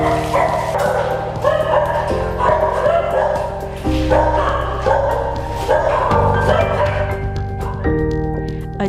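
Dogs at a shelter for disabled and injured cats and dogs bark and yip continuously in loud, overlapping bursts, with a steady, dense background throughout.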